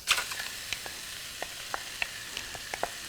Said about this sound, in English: now it's time to saute our buttery shrimp with the barbecue spice